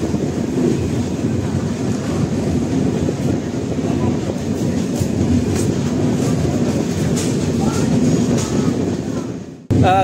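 The Kanchan Kanya Express, running from Sealdah to Siliguri, rolls along with a loud, steady rumble and rhythmic clickety-clack from inside the carriage, with wind buffeting throughout and a brief dropout near the end.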